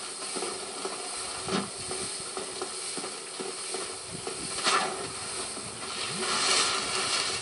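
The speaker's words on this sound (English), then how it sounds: "I have to listen to that sizzling sound every half second." A broadband hiss and sizzle from the video game Dark Souls runs steadily throughout, with short crackling pulses and faint clicking bursts recurring every second or so.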